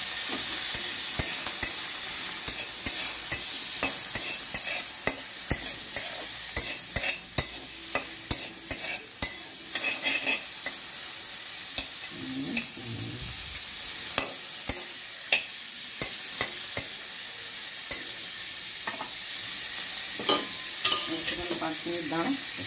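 Boiled prawn chowmein being stirred and fried in a little oil in a pan, with a constant loud sizzle and a long run of sharp utensil scrapes and taps against the pan, close up, with no talk.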